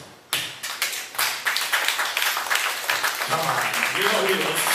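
Applause from a comedy club audience, a few scattered claps at first swelling into a dense, sustained round of clapping that fills the room.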